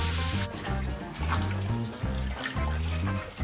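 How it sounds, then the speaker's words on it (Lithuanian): Water pours into a cooking pot while preparing a venison cabbage stew, a steady rushing wash that begins after a brief moment and runs under loud, rhythmic background music. "Pilame vandenį."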